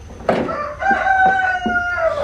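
A rooster crows once nearby, a loud drawn-out call with a wavering, strained finish.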